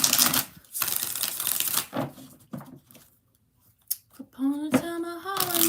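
Tarot cards are shuffled in quick riffling and slapping bursts, close and fairly quiet, with brief pauses between them and a short burst of voice near the end.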